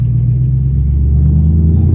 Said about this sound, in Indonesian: Coba kalau begitu digas dikit.